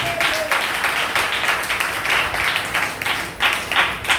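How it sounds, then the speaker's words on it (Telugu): An audience claps in a sustained, fairly loud burst of many hands, with the applause swelling and dipping in waves and no clear talk. "చప్పట్లు కొడుతావు."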